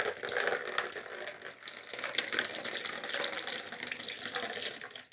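Water pours steadily into a container, filling it with a continuous splashing rush that stays fairly loud and close throughout, with no talking.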